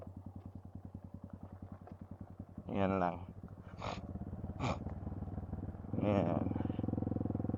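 A ZMAX motorcycle engine thrums with a steady low putter on a trail toward Talon Pari Falls in Bulacan, heard close while voices speak briefly over it.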